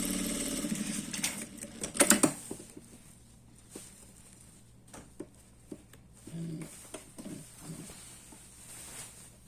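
Sewing machine stitching a zipper onto a black dress, running in short uneven bursts of rapid stitching separated by pauses and handling clatter, moderately close.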